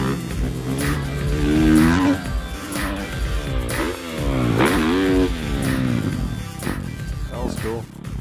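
A motorcycle engine revs repeatedly, its pitch climbing and falling in sweeping surges, loud and close.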